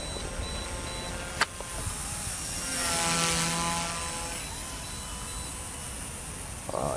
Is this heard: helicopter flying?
yes